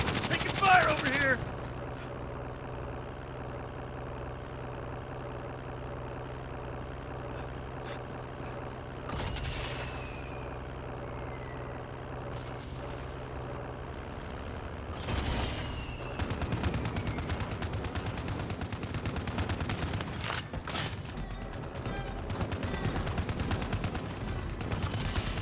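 Gunfire in Call of Duty Modern Warfare, with scattered shots and bursts over a steady engine-like drone, growing denser and louder in the second half; a few faint voices can be heard in the mix.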